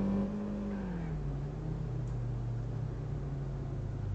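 A 4x4 pickup truck in a driving game on rough village roads, its engine droning steadily and rising slightly in pitch as it accelerates, loud and continuous throughout with no speech.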